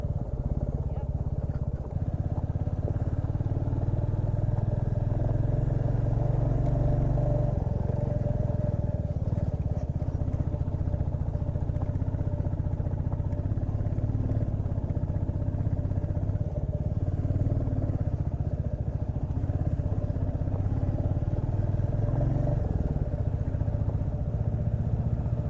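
A motorcycle rides a rough road on the way from Vizag to Araku, with a steady low engine drone and intermittent rattling from the bumpy surface.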